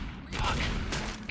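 An auto shotgun in Left 4 Dead fires a few heavy booming blasts in quick succession, loud and close, amid game noise.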